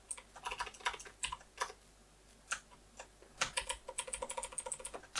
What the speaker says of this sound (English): what is wrong currently with my keyboard? I'm pressing Control and it's not taking it.